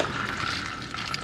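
Engine oil pouring from the drain plug of a Dodge Charger Hellcat, a steady liquid stream splashing continuously into a container at close range.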